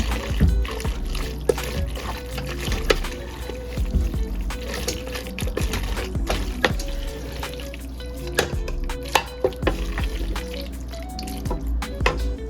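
Dry spices being stirred together in a bowl, garlic powder, smoked paprika and black pepper, for baked macaroni and cheese, giving a steady run of small clinks, scrapes and taps close by with no talking.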